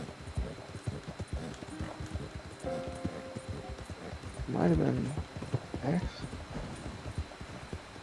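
Horse hooves clip-clopping in a steady galloping rhythm while riding in the Red Dead Redemption 2 video game, with a horse snorting and whinnying midway, under quiet game sounds and a brief spoken line.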